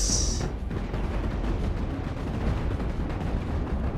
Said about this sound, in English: Now this one is chain guns.